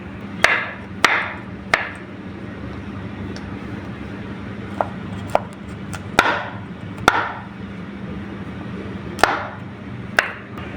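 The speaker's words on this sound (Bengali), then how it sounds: "কতগুলো কাজু, কিশমিশ আর আলমন্ড জলে ভিজিয়ে রেখেছিলাম। কিশমিশগুলো না ভুল করেই ভিজিয়ে দিয়েছি, না ভিজালেও হতো। এবার এগুলো একটুখানি কেটে নিই।" A knife chops soaked cashews, raisins and almonds on a board for papaya kheer: about a dozen sharp, irregular taps, close by, over a low steady background hum, with no talking.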